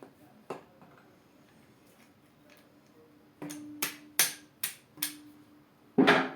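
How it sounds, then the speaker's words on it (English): A rubber mallet strikes a socket during top-end disassembly of a Yamaha XJ 750 engine: a couple of sparse taps, then a quick run of five sharp, close knocks with a final louder hit. "Rubber mallet and just hitting my socket."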